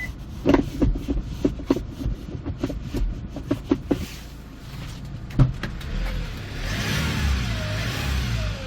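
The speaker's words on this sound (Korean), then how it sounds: "엔진 출력 소리 좋습니다" A 2019 Hyundai Porter II Super Cab one-ton manual truck engine idles with a series of sharp clicks and knocks, then builds into a rising, sustained revving drone that swells loudly near the end.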